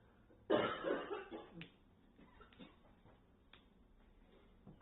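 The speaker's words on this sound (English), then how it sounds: "I'm coughing a bit over here" A person with a cold coughs once, loud and close, then trails into a few fainter coughs and throat-clearing sounds in a quiet indoor room.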